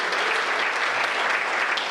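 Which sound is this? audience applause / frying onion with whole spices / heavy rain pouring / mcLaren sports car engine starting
audience applause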